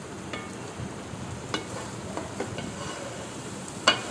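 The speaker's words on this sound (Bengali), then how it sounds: "আমার মাংস কষানো হচ্ছে, একটু নেড়ে চেড়ে নিচ্ছি যাতে লেগে না যায়।" Meat braises in a pan for biryani and is stirred now and then to keep it from sticking, giving a soft, steady sizzle with occasional scraping strokes and a small tap at the end.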